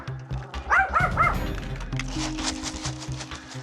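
Several dogs at a doggy daycare bark and yip in a quick cluster of sharp, loud barks, followed by ongoing kennel noise and background commotion.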